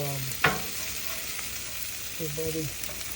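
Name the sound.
beef corn fries frying in a pan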